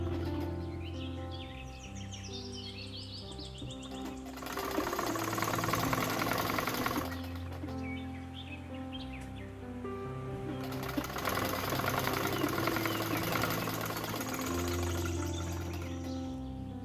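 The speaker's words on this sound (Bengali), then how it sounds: "আরেকটি সেলাই দিয়ে দিব।" Sewing machine stitching a seam on women's pants, running in steady bursts with a busy mechanical whir that starts and stops, alongside faint chirping in the background.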